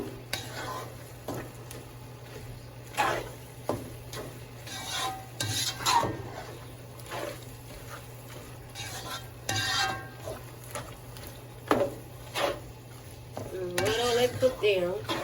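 Spinach cooks down in a pan with a soft continuous sizzle, broken by repeated scraping and stirring strokes of a utensil against the pan and occasional clinks, close and fairly quiet.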